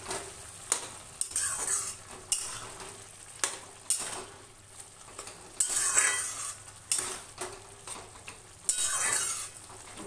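Shrimp added to a pan of dal with spices and turmeric for a red amaranth lentil dish, frying with steady sizzle while a utensil stirs and clinks against the pot in repeated bursts, no voices.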